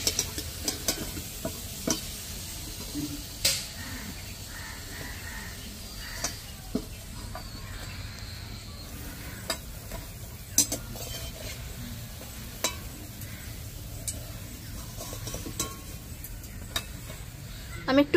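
Stuffed tiffin snacks deep-fry in hot oil until reddish brown. A continuous soft sizzle carries through, broken by occasional sharp clinks of a utensil against the pan, close and moderately loud with no one speaking.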